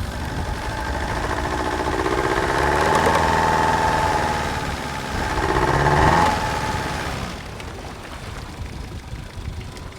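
An engine idles with an uneven misfire, a steady mid-pitched running drone that swells and eases twice before settling lower, heard alone without talk.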